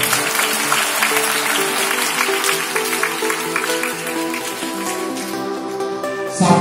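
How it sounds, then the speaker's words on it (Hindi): Vigorous audience applause at a school speech competition and prize distribution, steady and full for several seconds. A sustained tonal drone, like music or a harmonium, runs beneath the clapping. "तो उनके लिए धन्यवाद स्वरूप हम जोरदार तालियां बजाएं"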